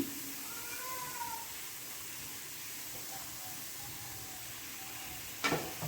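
Low steady sizzle of grated coconut frying in a kadai, with a few soft scraping stirs and a sharper clatter near the end.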